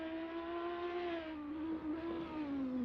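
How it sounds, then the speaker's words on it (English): A BMW Z4 GT3 race car in a racing video game idles and hums steadily in the pits at Le Mans, a sustained engine drone with a slight dip in pitch midway and no talking. "As we see Clemmy finally coming into the pits in the Z4 here"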